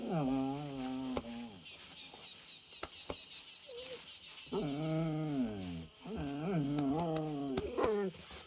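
A dog in Red Dead Redemption 2 whimpers and whines in rising, wavering cries, close and fairly faint, with a few brief ambient ticks and a soft in-game voice nearby.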